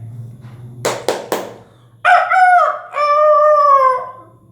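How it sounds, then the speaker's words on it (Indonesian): A rooster crowing, with a loud, drawn-out cock-a-doodle-doo in two long phrases, preceded by three sharp taps. "Sekarang kita masuk pada suara ayam berkokok."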